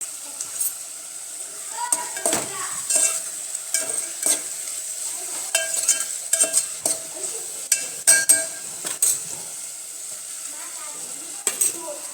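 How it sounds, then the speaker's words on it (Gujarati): Peas cooking slowly in a pan over a low flame, with a soft steady sizzle and frequent clinks and scrapes of a spoon stirring against the metal. "વટાણા ઉપર નાખી દો ને નાખી દેવી ને ધીમા ઓલે સડવા દેવી."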